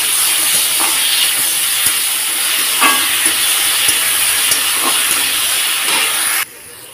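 Ridge gourd peels frying in hot oil with black cumin, a steady dense hiss and sizzle running throughout, loud and close, with faint stirring clicks, dropping off sharply near the end.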